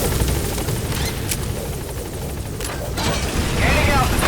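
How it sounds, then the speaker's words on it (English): Heavy rotor wash and engine roar from a helicopter in Metal Gear Solid V: The Phantom Pain, loud and continuous, with scattered gunfire and mechanical clatter mixed in and a voice speaking over it. "Get on the chopper."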